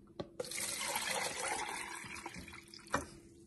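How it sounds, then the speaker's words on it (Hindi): Yogurt water is poured from a container into a cooking pot for kari, making a continuous splashing, gurgling liquid rush with a few sharper clunks and drips, close by, with no voices. "ये 3 डब्बे डाल देंगे हम इसमें दही के पानी के।"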